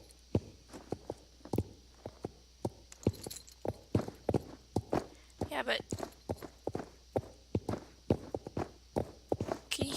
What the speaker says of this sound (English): They only pretty much changed the footsteps of the horses in terms of sound effects in the games.